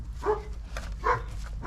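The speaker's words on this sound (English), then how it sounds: "Oh, our dogs are jealous." Pet dogs bark in a few short, moderate bursts, spaced roughly half a second apart, close by with a low steady background rumble and no talk.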